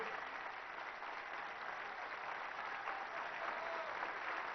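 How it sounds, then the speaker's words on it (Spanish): Standing applause fills a parliamentary chamber, dense and steady clapping from a large crowd holding at an even level throughout, with no voices over it. "para quien pido un aplauso, todos de pie"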